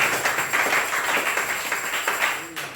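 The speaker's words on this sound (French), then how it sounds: "Applaudissons encore pour le Seigneur Jésus" A church congregation claps steadily in dense, continuous applause for about three seconds, near and fairly loud, with voices mixed in.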